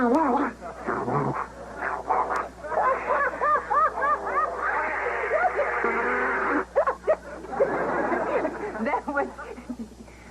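Several voices imitate ducks, quacking and honking in a rhythmic, tune-like pattern over a steady background hum, continuing throughout.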